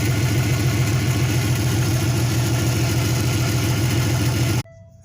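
A Turbo Venture engine runs steadily after its cylinder 5 injector misfire was fixed, giving a loud, even, low idle rumble close by that cuts off abruptly near the end.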